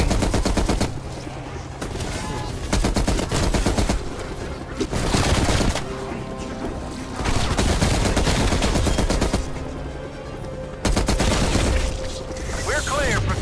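Rapid video game gunfire blasting at zombies, dense automatic bursts and booming shots in loud waves with brief lulls, carrying on for the whole stretch under a battle soundtrack, with voices calling out now and then.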